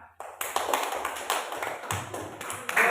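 Primary school class applauding a student group in the classroom, a dense, steady patter of many small hands clapping together, fairly close, with a few voices faintly underneath.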